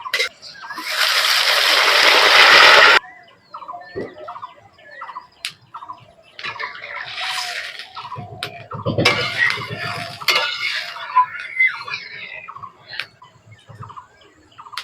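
Water poured into a pan of fried papaya and potato for a village-style katla fish curry with bori gives a loud, rushing splash and sizzle for about two seconds. Quieter kitchen clatter and stirring follow.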